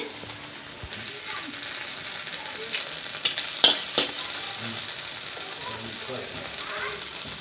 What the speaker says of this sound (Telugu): ఇప్పుడు ఇందులోకి గ్రీన్ చిల్లీ పేస్ట్ అండి, 1 స్పూన్ వేస్తాను.